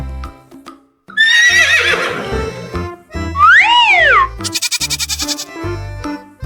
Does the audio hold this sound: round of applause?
no